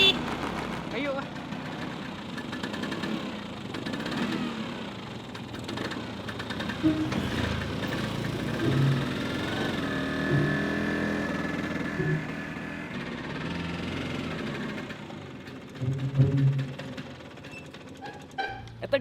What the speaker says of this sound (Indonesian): Eta geuningan aya motor teh Willy